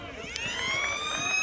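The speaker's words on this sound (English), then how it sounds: "There goes the siren. You hear the siren," Siren marking game time at a high school basketball game, a steady rising electronic tone sounding continuously through a noisy gym with crowd murmur beneath.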